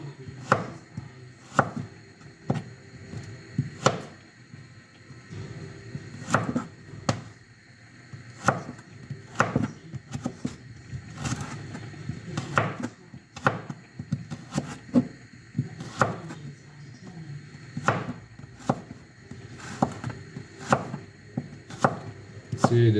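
A knife chops carrots on a cutting board while topping is prepared for sweet Thai pork cubes, giving sharp, irregular knocks that come close and fairly clear over a low kitchen hum, with no talking.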